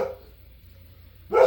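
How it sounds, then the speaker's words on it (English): Dogs at home give a short, close bark at the very end after a second of near silence, preceded by a faint trailing yip at the start. "Sorry about my dogs too."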